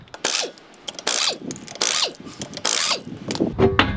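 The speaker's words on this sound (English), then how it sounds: "So pull off the wheel." A ratchet wrench spins off the lug nuts of a Toyota wheel during a suspension check, giving four loud bursts of rapid clicking separated by short pauses, with a metallic clink at the end.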